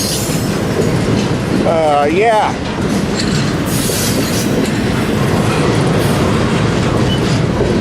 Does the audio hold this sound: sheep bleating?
no